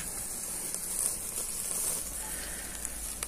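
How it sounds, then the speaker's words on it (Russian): Shashlik meat sizzling on a grill grate outdoors, a faint steady hiss and crackle of fat, soft and continuous with no talking. "Шашлык жарится, уже запашок пошел"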